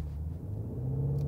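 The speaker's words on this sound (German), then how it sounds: "Krass, BMW. Launch Control." A BMW M5 G90 launches under launch control, a deep, loud engine rumble heard from inside the car, steady and slightly rising over a brief moment.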